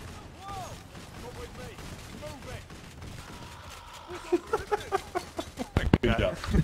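Payday: The Heist gameplay brings a rapid string of gunshots near the end, loud staccato cracks building after a stretch of muffled background noise, with people talking over it.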